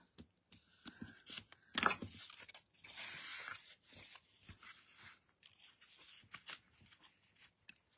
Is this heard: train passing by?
no